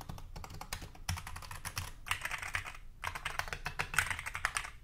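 Rapid typing on an iLovBee i61 budget mechanical keyboard, dense clusters of sharp, close key clicks in several bursts separated by short gaps, with no voices.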